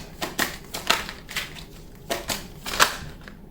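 Tarot cards are shuffled by hand in a steady run of crisp, close riffling snaps, about eight quick bursts with brief gaps between them, with no voice over them.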